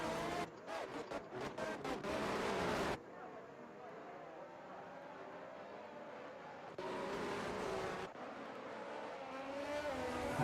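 F1 race cars in a racing video game, engines droning and shifting in pitch as cars accelerate, with abrupt cuts between segments and a voice talking over the racing.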